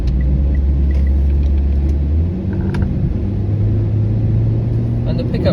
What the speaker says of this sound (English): the car's just cruising along